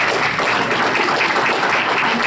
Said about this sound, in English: Worth a big round of applause